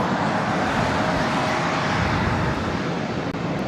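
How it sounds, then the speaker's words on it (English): An Airbus A380 jet rolls down the runway for takeoff at LAX, a broad, steady distant engine roar with rumbling wind-like noise that holds level throughout, no talking. "I don't know if you can catch the A380 takeoff."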